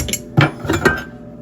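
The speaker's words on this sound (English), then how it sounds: "I gotta get this knife out of here." Metal knife clanking and clinking against dishes and pans while washing up in a sink, with three sharp clattering hits close by, spread across about a second.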